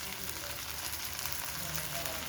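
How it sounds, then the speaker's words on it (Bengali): Eggplant and potato fritters in a sugar-sweetened batter fry slowly in hot oil, giving a steady, even sizzle and crackle from start to end with no voices. "ধীরে ধীরে যদি এভাবে সুন্দর করে ভাজা যায়"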